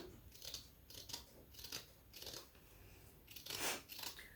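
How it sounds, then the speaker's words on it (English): Scissors cut around a circle in cross stitch fabric with quiet, close snips in a fairly steady rhythm of about two per second, and a few soft rustles of cloth in between. "So I'm just cutting on that line all the way around my piece."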